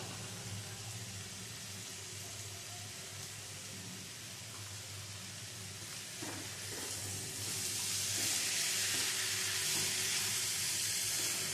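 Poppy seed paste with turmeric and salt sizzles in a pan while being sautéed and stirred, a soft steady hiss that grows louder and brighter toward the end, with occasional light scrapes.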